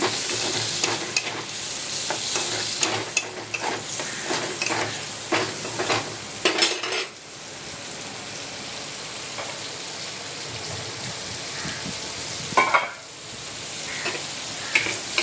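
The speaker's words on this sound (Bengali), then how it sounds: "আলুটাকে নাড়ছি, লাল লাল হবে।" Potatoes fry in goat fat for a pointed gourd and potato curry, stirred with busy, close scraping and crackling for several seconds before settling into a quieter, even sizzle with an occasional scrape.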